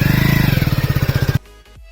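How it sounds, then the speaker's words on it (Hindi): A Hero Splendor Plus BS6 motorcycle engine runs with a rapid, pulsing chug, loud and close, then cuts off abruptly, leaving near silence. "सिंपली अपनी बाइक को स्टार्ट करिए और गियर डालिए और चलिए।"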